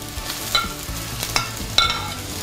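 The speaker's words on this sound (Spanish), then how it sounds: "vamos a dejar sofreír y enseguida agregaremos los" Chiles or ajíes sautéing in a frying pan with oil, giving a steady close sizzle with a few sharp scraping clicks from stirring. No voices.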